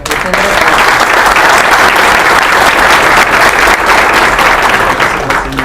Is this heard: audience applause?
yes